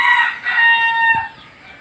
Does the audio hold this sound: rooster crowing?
yes